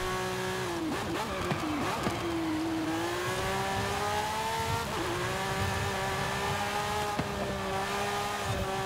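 Race car from Forza Horizon 5 with a tuned drag setup, engine droning steadily through corners then climbing in pitch as it accelerates, with brief shifts and faint tire noise, no voices.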